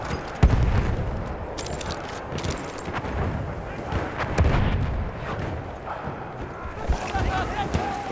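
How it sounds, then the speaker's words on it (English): Mortar rounds fired in the World War I shooter Battlefield 1, with deep booms and rumbling blasts among steady battlefield noise, a few sharp thumps standing out while players talk over the action. "I'm gonna mortar that shit."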